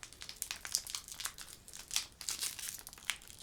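A Pokémon card booster pack wrapper crinkles and crackles in quick, irregular bursts as it is struggled open, close and fairly soft, with no talk.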